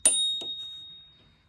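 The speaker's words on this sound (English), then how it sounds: "And on the other side, a little bell." A little bell mounted on the handle of a crazy cart rings twice, a sharp, close ding followed by a second strike, leaving a clear metallic tone that fades away over about a second.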